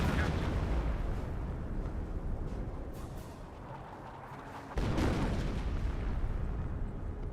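Airburst artillery barrage in the World War II strategy game Company of Heroes, a dense rumbling roar of overlapping detonations that dips briefly and then surges back louder, sustained and booming throughout.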